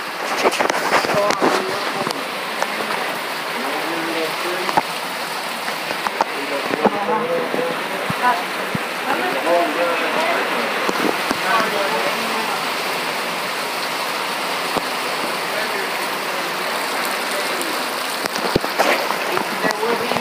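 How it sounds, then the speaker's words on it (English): Heavy rain pours steadily during a house flood in Oklahoma, a dense, continuous roar of water close by that stays loud throughout, with brief voices breaking in now and then. "That is all rain, guys. No fog. Just rain."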